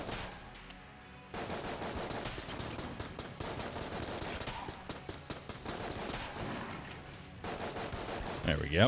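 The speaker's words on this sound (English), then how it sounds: "Magnum's not a very good item, so we're just gonna go ahead and just burn through all of its ammo" Rapid, repeated magnum shots in the video game Enter the Gungeon ring out over dense game music and effects, with a brief spoken remark near the end.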